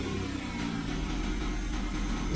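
A Chrysler Town and Country minivan engine running steadily after a remote start, a continuous low idle rumble throughout with no talk.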